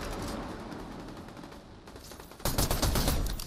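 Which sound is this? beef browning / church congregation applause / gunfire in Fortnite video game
gunfire in Fortnite video game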